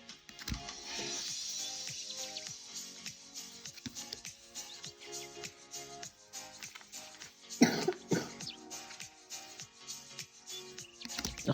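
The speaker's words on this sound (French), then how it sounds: "c'est ma fille qui tousse à côté" A girl coughs a few times in a quiet room, nearby but not right at the microphone, with a louder cluster of coughs partway through.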